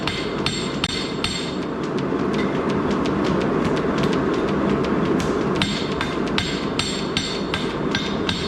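Blacksmith hammer strikes on hot metal over an anvil as a tool hanger end is flattened, a steady run of sharp, loud metallic clangs repeating at an even rhythm close by with no talk.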